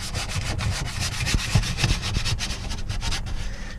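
Steady close-up scrubbing of an RV holding tank's surface with a 3M Scotch-Brite pad, a continuous dry rasping rub with small uneven bumps in force and no voices.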